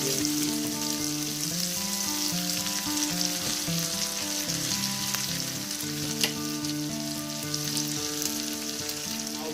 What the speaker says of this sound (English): So for saute the onion,